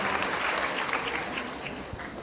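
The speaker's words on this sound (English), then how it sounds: "Oh, you better really clap for him." Dense, sustained applause from an audience at a middle school promotion ceremony, an even roar of many hands clapping throughout.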